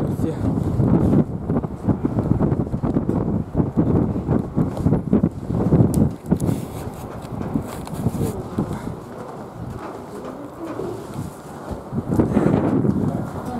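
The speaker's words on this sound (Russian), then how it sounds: "тут очень ветрено" Gusty wind buffets the microphone in uneven roaring bursts high up at the Epiphany Cathedral bell tower in Kazan, while people talk nearby.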